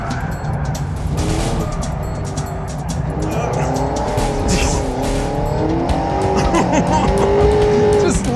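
Fiat 124 Spider sliding sideways, its engine revving hard with rising and falling tone as the tires squeal through the slide, loud and close throughout.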